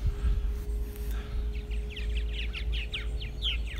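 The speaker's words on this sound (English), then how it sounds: "Pretty hardy little characters, these birds, these martins." Purple martins calling outdoors, a run of bright repeated chirps and warbles from about halfway through, over a steady low background hum with light rain.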